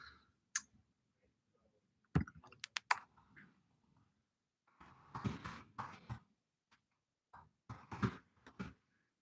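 Bursts of clattering keystrokes on a computer keyboard, close and distinct, come in uneven clusters separated by short silent pauses.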